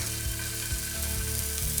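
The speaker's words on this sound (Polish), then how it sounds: "I w tej pozycji smażymy ją kolejne dwie minuty." Steady sizzling of salmon frying in a hot pan, a constant crackle with no talking.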